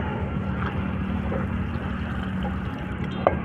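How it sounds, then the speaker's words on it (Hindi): Water is poured over mushrooms in a kitchen while they are being rinsed: a steady, close rushing splash that runs evenly throughout, with no talking. "अब मशरूम में ऐड करेंगे हम पानी"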